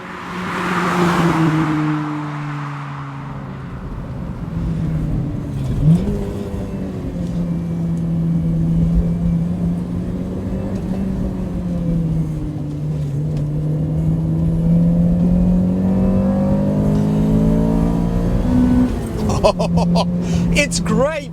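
A Honda CRX 1.6Vi VTEC being driven through a bend, its engine humming and rising steadily in pitch as the throttle is worked, with someone talking over the continuous cabin drone.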